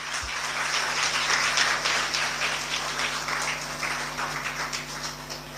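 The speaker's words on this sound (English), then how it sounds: "A big round of applause for our children," Audience applause for children at an annual school celebration, moderate, continuous clapping from an indoor crowd with a steady electrical hum underneath.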